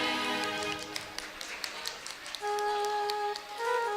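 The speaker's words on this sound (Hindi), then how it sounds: "सब तालियां बजाएं।" Audience at a women's group programme at a Jain temple clapping in a scattered, sharp burst of applause, followed by sustained musical tones.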